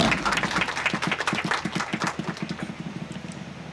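A small group gives a short, brisk round of applause in an office for a newspaper's editorial head, the claps dense at first and then fading.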